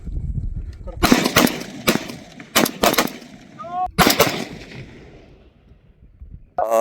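BSF soldiers fire guns in a series of sharp, loud reports, single shots and quick pairs spaced over several seconds with echoing decay, and a voice calls out briefly between them.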